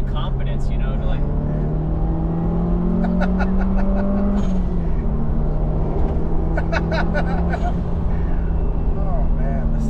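A car accelerating while driving on the road, its engine pulling steadily and rising in pitch from inside the cabin, with people talking over it.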